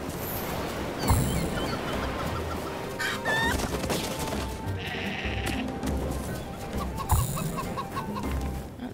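Chickens cluck and squawk in the How To Train Your Dragon video game, repeated bursts of clucking and bleating calls over a steady, busy game ambience, with a few louder squawks spaced through the stretch.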